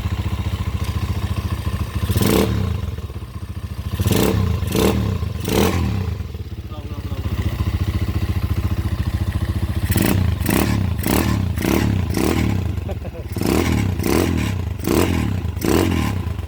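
A 200cc motorcycle engine idling with a steady low rumble, broken by repeated sharp revs in bursts, close up, with someone talking over it.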